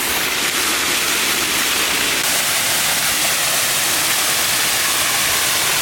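Loud, steady rush of water pouring over a man-made dam spillway, a dense broadband roar with no breaks and no voices.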